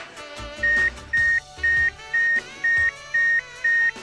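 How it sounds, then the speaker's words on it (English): A Honda CR-X roof mechanism's steady electronic warning beep repeats seven times at an even pace, each tone about a quarter second long, loud and clear over faint mechanical whirring. "it was very clever, but involved lots of annoying beeping."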